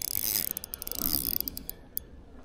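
A small ultralight fishing reel clicks and ratchets rapidly while a fish is wound in from the shore of Sydney Harbour, bursts of close, crisp clicks with a short pause between.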